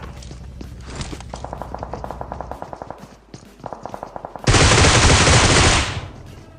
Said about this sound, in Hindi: अब ये था लास्ट जोन और सामने चली थी फायरिंग।